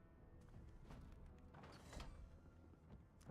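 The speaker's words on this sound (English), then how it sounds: "That's why the door shut." A door in the Divinity video game closes with a faint mechanical creak and a sliding rumble, quiet and brief, ending in a soft thud.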